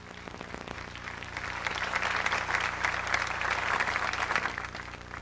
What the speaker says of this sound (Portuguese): Aplauda o nome de Jesus mais uma vez.